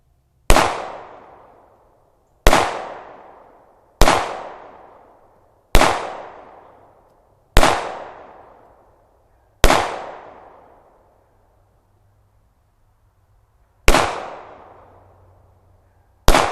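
Eight sharp shots from a Zastava M88A 9mm pistol aimed at a cement block crack out one at a time at uneven intervals. Each report is loud and dies away before the next, with a longer gap before the final two.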